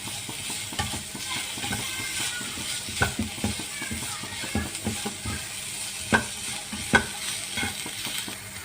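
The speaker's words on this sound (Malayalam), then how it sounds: "നന്നായി ഇളക്കി കൊടുക്കാം." Garlic and ginger fry in a pan while a spoon stirs them, giving irregular scraping knocks against the metal over a low, steady sizzle, close up and with no talking.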